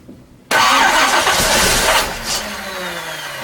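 A big block Ford V8 in a Factory Five Racing Mk4 roadster cranks and bursts into life after a quiet moment, a loud close roar that settles into a rough, rumbling idle.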